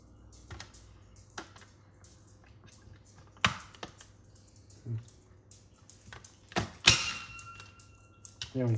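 A knife chops through mushrooms on a board in scattered sharp taps and knocks, close and uneven, with faint movement noises between cuts.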